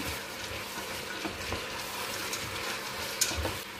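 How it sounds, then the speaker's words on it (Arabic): Vegetables and fava beans fry in a pan with a soft, steady crackle and a few faint stirring clicks. The sound stays quiet and even throughout, with no voices. "وتوا باش نزيد الخضره باش نقليها زاده شويه"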